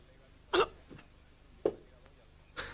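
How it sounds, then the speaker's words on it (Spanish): A man chokes and coughs on wine in a few sharp, abrupt bursts spaced across the moment, each a short gasping spasm over a quiet background. "Se atragantó con el primer buen vino que probó"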